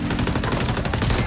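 Dense, rapid gunfire from the first-person shooter XDefiant, a continuous burst of shots at close range filling the whole moment with no voices over it.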